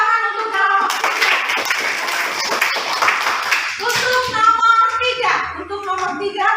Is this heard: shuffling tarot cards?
no